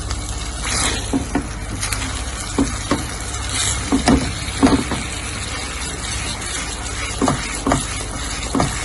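A milk barfi mixture bubbling and frying in a pan while a spoon stirs and scrapes it, steady sizzle broken by repeated short clinks and scrapes at irregular intervals, close and fairly loud.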